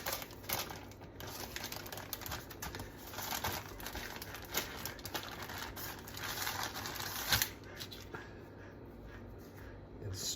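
Paper crinkles and rustles steadily while calzone dough for a grilled chicken and roasted veggie filling is folded over, a close, dry crackling that keeps going with small sharp peaks and no talk over it.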